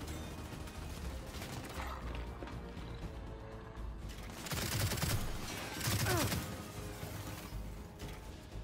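Gunfire in the video game Gears 5 comes in two short bursts midway, a few seconds apart, with clicking mechanical weapon sounds. A continuous game soundscape of rumble and noise runs throughout.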